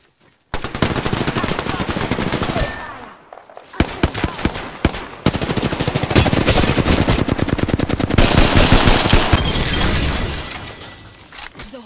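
Rapid bursts of Hemlock rifle gunfire in the video game Apex Legends, loud and nearly continuous, with a brief lull and sharp isolated shots before sustained volleys resume, mixed with crackling impacts and faint game voice.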